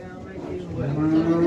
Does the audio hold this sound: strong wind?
no